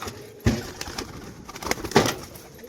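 A male pigeon gives a few soft, low coos close by, with short wing rustles and small knocks in a quiet space.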